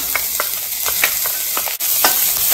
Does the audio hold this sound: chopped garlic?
yes